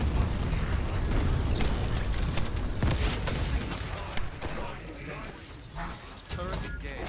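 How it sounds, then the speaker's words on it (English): A summoned turret in The First Descendant fires amid dense combat: loud mechanical clattering and rapid bursts with thuds and pops, tapering somewhat toward the end, with a voice speaking over the action. "Turret engaged. Summoning turret."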